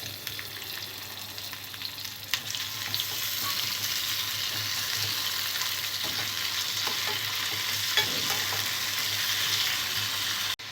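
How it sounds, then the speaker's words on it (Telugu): Onion and tomato pieces, along with cashew pieces, roast in a pan for a restaurant-style meal maker gravy curry, giving a steady close sizzle with occasional stirring scrapes throughout and no talking. "ఉల్లిపాయ ముక్కలు, టమాటో ముక్కలు వేసి రోస్ట్ చేసుకోవాలి."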